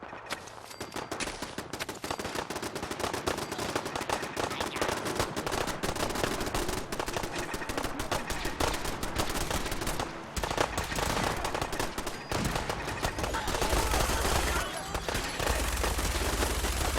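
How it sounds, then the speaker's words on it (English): Gunfire in the video game Fallout 4: rapid automatic bursts and scattered shots crackle almost continuously, loud and dense, with brief lulls and renewed volleys, heard without talk. "I hear gunfire already"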